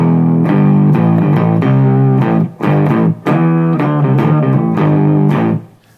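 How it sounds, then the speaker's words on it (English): A bass guitar plays a series of thick, fuzzy notes through an octave-down effect and distortion, heavy and sustained, ending with a fade. "the bass setting, octave down with distortion after it"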